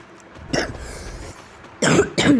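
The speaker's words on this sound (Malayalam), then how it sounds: "ചുമയാണ് ഗൈസ്" A few harsh coughs close up, one isolated cough followed by a pair of rough coughs in quick succession.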